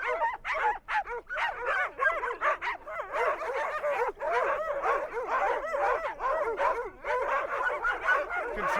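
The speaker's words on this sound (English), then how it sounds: "Put a number of dogs together, signal the concept of a walk, and they all start barking" A pack of excited dogs, roused by the prospect of a walk, barks and yips nonstop in overlapping layers, loud and close, with high-pitched whines mixed into the din.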